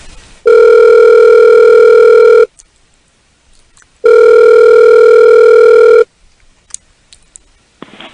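Telephone ringing on an outgoing call, heard from the caller's end: two long, loud, steady ring tones, each about two seconds, separated by a silent gap, followed by faint clicks on the line.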